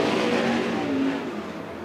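Sprint car engines roar at Willamette Speedway during an Interstate Sprint Car Series race, a loud sustained high-revving drone from several cars at once that eases slightly as they pull away.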